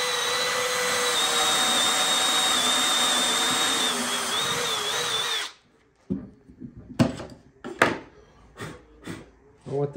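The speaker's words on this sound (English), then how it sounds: "But I could drill this other pocket. This is the little jig they provide." A power drill bores pocket holes through a jig into cabinet wood, whining loud and steady for about five seconds before stopping, followed by clattering handling noises and voices talking.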